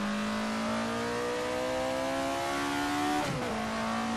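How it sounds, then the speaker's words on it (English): Race car engine in Assetto Corsa holding high revs with a steady rising whine, then a sharp pop as the throttle lifts, loud and continuous with no talking. "Nice backfires on the overrun at higher revs."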